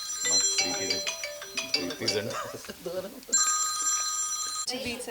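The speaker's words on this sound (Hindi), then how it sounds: "इसका फ़ोन आया, उठाना बहुत ज़रूरी है।" Mobile phone ringtone going off at a press conference, a loud electronic melody with sustained tones that keeps repeating over a noisy room of overlapping voices.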